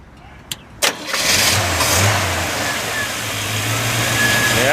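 A 1968 Chevrolet C10 pickup truck engine cranks briefly, fires up and settles into a low, steady rumbling idle, close by and fairly loud, with a slight rise in pitch near the middle.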